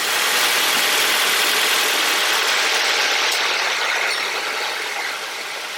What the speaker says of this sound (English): I'm gonna turn on the car, make sure everything works.